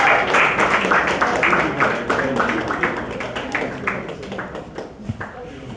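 A crowd applauds at a book event in Surulere with dense, scattered clapping that tapers off over several seconds, while voices talk over it.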